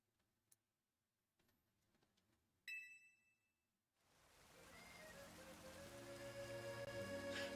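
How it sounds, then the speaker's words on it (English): Rain falling in the Pokemon Legends: Z-A video game, starting after a few faint ticks and a chime, then a soft steady patter that builds gradually with tonal game sounds layered over it. "This rain sound is so nice."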